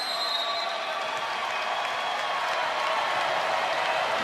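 A crowd cheering and applauding in an arena during a women's college volleyball match between Kansas and Texas, a dense, steady roar of clapping and shouts, loud and sustained, with no clear talk.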